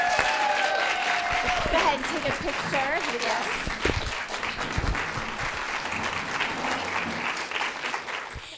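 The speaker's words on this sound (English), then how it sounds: "Can we give her another round of applause?" Loud applause from an audience at a live talk-show event runs steadily and slowly fades, with a few people speaking over the clapping.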